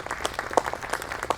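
Audience clapping for poets at an evening reading event, brief and moderately loud, with irregular claps forming a short burst of applause.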